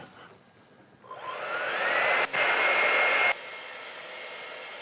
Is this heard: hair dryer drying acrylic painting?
yes